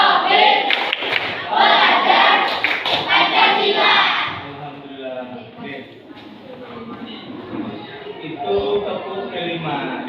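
A school class performing the Tepuk P5 clapping chant, children's voices chanting together with sharp rhythmic claps at first, then a teacher's voice and a murmur of talk.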